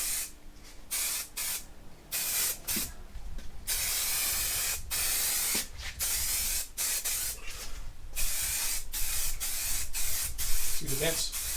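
Aerosol spray paint lays a light coat on a dented diesel oil pan, heard as repeated close hissing bursts of varying length separated by short pauses, with a brief voice near the end.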